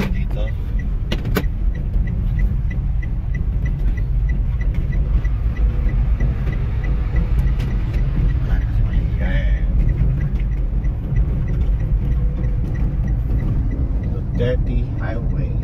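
A car overtaking on the Duterte Highway in Daraga, Albay, heard from inside the car as a steady loud road and engine rumble with occasional clicks, while people talk over it.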